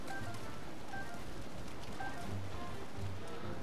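Steady, soft rain patters continuously in The Legend of Zelda: Tears of the Kingdom, a fairly quiet, even wash of falling drops with faint low thumps from the game beneath it.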